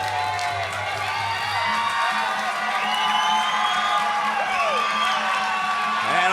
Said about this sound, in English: the crowd gets on their feet and chant Maximus once more